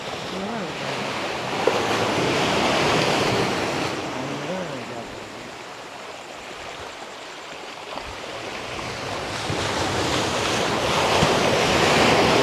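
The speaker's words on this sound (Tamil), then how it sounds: "இப்போவும் தண்ணி அடிச்சுன்னு தான் இருக்கு ஃபுல்லாக வந்து." Sea waves surge and wash onto the shore at Praslin island, a continuous rushing swell that rises and falls over several seconds, with wind noise over the microphone and no speech.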